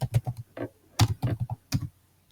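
Keys clatter on a computer keyboard as a command is entered at a Windows command prompt, a close, irregular run of clicks and taps with short pauses between bursts.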